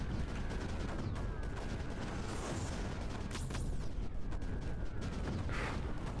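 Sniper fire in the strategy game Creeper World 4, faint, scattered shots and distant booms over a dense, constant game backdrop, with no talking.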